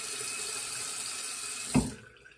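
Tap water runs steadily into a shaving brush, a close, even hiss, then a brief splash and clunk as the flow is shut off, leaving quiet.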